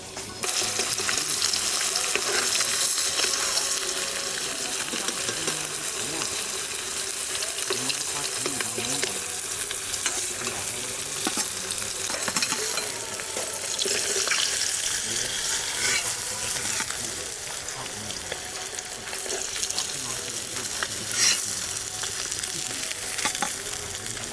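Hilsa fish frying in hot oil for a potato and cauliflower curry, a continuous bright crackling sizzle that stays steady and close for the whole stretch, no talking.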